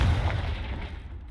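A Confringo spell in Hogwarts Legacy blasts a table apart with one loud, deep boom that rumbles and fades out over about a second, with no other sound.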